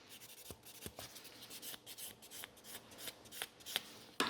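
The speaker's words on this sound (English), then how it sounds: "we are gonna give it a couple scratches to it. So you cannot paint on the shiny surface" A shiny gel nail surface over natural nails is scratched with a file before painting, giving quick, close, dry rasping strokes in an irregular rhythm, each a short bright scrape.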